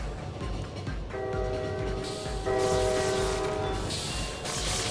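Train horn in Lobotomy Corporation: a loud, steady multi-tone blast sounds twice in a row over a busy, rumbling game soundscape, with no talking.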